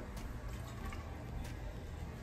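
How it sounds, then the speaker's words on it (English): Pasta cooking water is poured into a small cup in a home kitchen, making a soft, steady trickling and splashing that runs continuously and faintly for a couple of seconds. "I put some of this pasta water in there."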